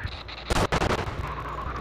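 Gunfire in the video game Manhunt, a quick burst of several sharp, loud shots clustered together, followed by a lingering rumble and background noise with no talking.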